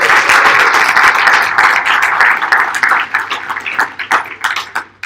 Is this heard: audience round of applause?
yes